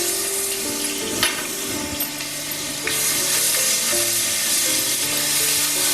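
Garlic paste fries in ghee, an even close sizzle with occasional stirring scrapes and clicks, with some tonal hum in the background.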